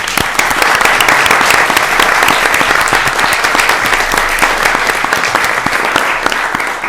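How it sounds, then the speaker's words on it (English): A city board of aldermen meeting audience gives a round of applause for the Department of Public Works, a loud dense patter of many hands clapping steadily throughout and fading slightly at the end. "maybe a nice little round of applause for our Department of Public Works"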